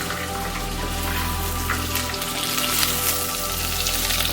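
A stew fries with fresh curry leaves while being stirred, giving a dense, continuous sizzle and crackle, close and fairly loud, with no voices.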